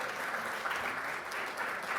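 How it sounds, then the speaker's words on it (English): A short burst of steady audience applause as a board joins the stage at an official event, a dense, even hiss of many hands at moderate distance. "Please give them a warm round of applause as they join us."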